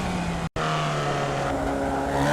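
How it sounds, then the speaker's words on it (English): A Formula Vee race car in iRacing at Summit Point Raceway accelerating hard onto the long straight, a loud steady engine drone rising in pitch, broken by a brief cut near the start, with no talking. "You want to be aggressive on the throttle to accelerate onto the long straight"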